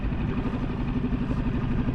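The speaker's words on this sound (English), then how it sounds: "I'm going to kill the engine" A small motor on a Sea Eagle PaddleSki 437 kayak runs steadily on a Florida spring-fed river, a close, even clattering hum with a faint regular pulse and no talking.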